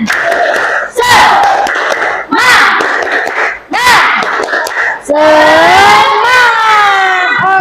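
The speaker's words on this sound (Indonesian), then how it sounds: "Coba tepuk semangatnya gimana? Tepuk semangat." A classroom of students doing a loud, energetic tepuk semangat cheer together: shouted chanting in unison broken by short sharp bursts, ending in a long rising group yell.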